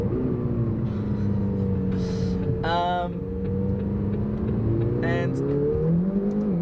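McLaren GT sports car engine running and revving, a steady droning tone with rising and falling pitch, and brief sharper bursts laid over it, with a voice speaking briefly.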